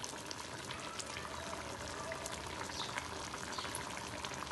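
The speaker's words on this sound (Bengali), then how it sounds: "আর এখন এটাকে একটু নেড়ে চেড়ে দিচ্ছি" Phaisa fish cooking with coriander leaves in a pan, a continuous soft sizzle and bubbling hiss with faint scraping from stirring, quiet and close.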